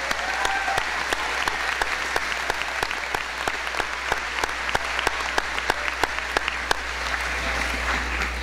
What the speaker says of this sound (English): One big round of applause for the whole band and our senior band members.